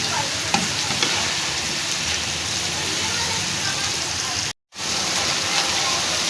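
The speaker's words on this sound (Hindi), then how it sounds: "सारी चीज़ें मिक्स हो चुकी हैं अच्छे से और अच्छे से मैंने भून लिया।" Bitter gourd masala with tomatoes and pomegranate seeds fries in a pan, a dense, loud, rain-like sizzle with light stirring scrapes throughout, briefly cutting out near the end.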